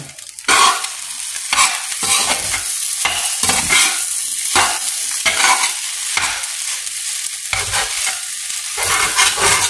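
Fried rice stirred and tossed in a hot pan, sizzling steadily with repeated scraping strokes of the spatula, close and loud with no talking.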